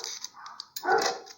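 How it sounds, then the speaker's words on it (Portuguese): Dogs bark near a home kitchen where sweet bread dough is being mixed. Several short barks and high yips come one after another, fairly close and loud, with a brief whimper, and no one speaking. "Agora os cachorros começaram a latir"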